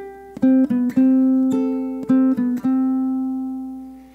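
Ukulele playing the Minuet in G melody as a classical piece, a short run of clean plucked notes in a steady rhythm, close and solo, the last note ringing out and fading.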